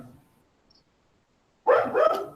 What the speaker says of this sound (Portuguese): Os cachorros começaram a latir exatamente agora que a gente começou.